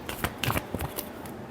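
A deck of tarot cards is riffled and shuffled up close, a quick run of crisp flutters and slaps lasting about a second before tapering off.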